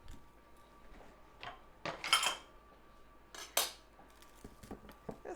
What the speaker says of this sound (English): We're going to cut our onion into quarters.